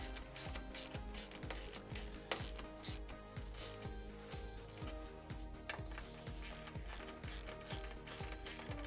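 Steady ratchet clicking as bolts are tightened down during an MTX Audio X3-17-THUNDER3 subwoofer installation, with repeated even bursts of pawl clicks running throughout, close and alone without talk.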